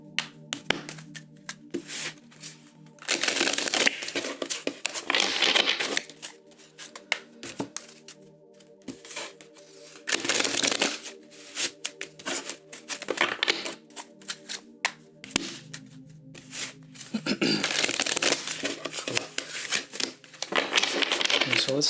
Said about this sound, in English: I'm going to go ahead and get into it with 3 shuffles.